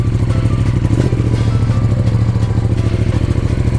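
A KTM motorcycle engine runs loud and close indoors in a living room turned into a garage, with a steady, throbbing idle and some blipping of the throttle throughout.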